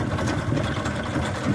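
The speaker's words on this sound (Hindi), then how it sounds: "आपके सामने ट्रैक्टर चल रहा है" A Kubota T7 tractor engine runs at a steady, even chug during potato digging in a field, close and continuous with no voices.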